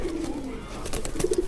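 Madrasi Kalpara fancy pigeons coo in short low murmuring notes, a soft rolling call at first and then a clearer trio of coos near the end, close by with faint background noise.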